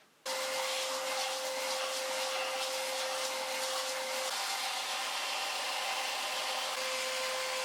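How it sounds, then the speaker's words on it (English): A belt sander shapes the handle of a fiberglass-backed laminated flat bow, giving a continuous, loud, even whirring roar with a steady whine that runs without a break and without talk. "it's going to be a matter of doing some work on the belt sander"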